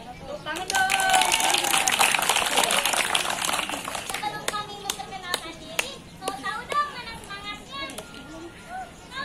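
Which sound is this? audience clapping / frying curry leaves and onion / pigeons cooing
audience clapping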